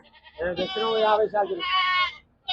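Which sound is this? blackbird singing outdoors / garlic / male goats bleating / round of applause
male goats bleating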